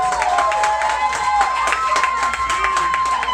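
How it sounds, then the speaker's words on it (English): An audience claps warmly for Joe Anderson, a dense patter of close handclaps running throughout, with crowd voices and tonal sounds mixed in. "we want to give a very, very warm round of applause to Joe"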